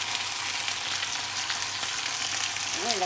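Catfish adobo frying in a pan, with a steady loud sizzle close by that runs continuously without pause and no voices over it.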